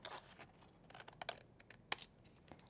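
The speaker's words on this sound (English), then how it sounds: "now you're going to take your scissors and you can cut a wavy or zigzaggy" Scissors cutting a wavy edge along a folded bag at a kitchen crafting table, giving quiet, close snips and papery crinkles at an irregular pace.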